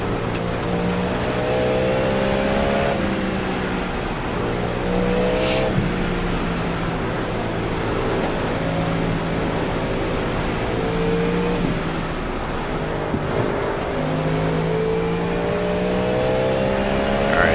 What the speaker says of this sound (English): the car that just overtook you, he's like their quick driver.